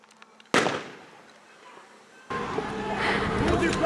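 Two loud, sharp blank rifle shots ring out during a WWII reenactment battle in a town in Linden, Tennessee, each followed by a long echoing decay, with voices around.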